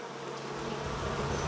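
Africanized honeybee colony buzzing steadily inside an opened hive, a dense, close, continuous drone of many bees at moderate level with no voices.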